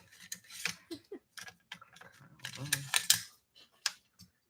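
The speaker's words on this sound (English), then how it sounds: "Taking out the bolt carrier group" Parts of a rifle's bolt carrier group being pulled out, a run of short metallic clicks and slides close to the mic, with brief pauses between the handling noises.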